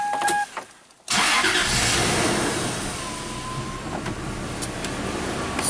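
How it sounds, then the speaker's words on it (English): A Toyota truck engine with a stored P2111 fault code cranks and catches after a brief pause, then settles into a loud, steady idle close by, with no talking. "let's run the truck."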